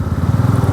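Bajaj Pulsar N250 V2 motorcycle, a 2024 bike weighing about 160 kg, with its engine thrumming steadily and close by in a pulsing low-pitched rhythm while it is ridden, no voices.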